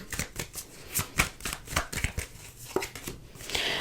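Tarot cards being shuffled and laid out in a pick-a-card reading, giving a string of quick papery riffles and flicks in an irregular rhythm, close and fairly soft, with no voices.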